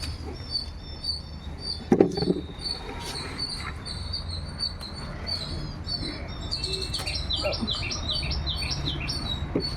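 Small birds chirp and tweet repeatedly around a nest set up in a home garden, with bright, busy calls clustering toward the end over a quiet outdoor background.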